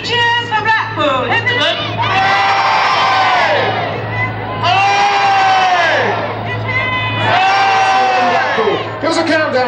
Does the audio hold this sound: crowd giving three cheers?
yes